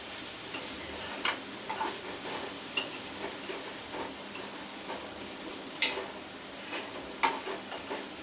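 Cluster beans (gavar) stirred in a pan, giving quiet, irregular scraping clicks and taps with a soft background hiss and no talking.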